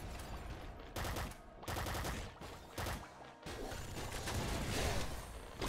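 Gunfire from the video game Nuclear Throne with the Ultra Mod: loud, continuous bursts of rapid shots and crashing impacts that surge and drop in waves across the whole stretch, with no talking.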